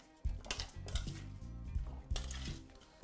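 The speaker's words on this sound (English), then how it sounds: "We're gonna give that a good mix" Aubergine salad being tossed with a soy and vinegar dressing in a bowl, giving repeated close clinks and scrapes of utensils against the dish, with soft wet squishing between the strokes and no talk.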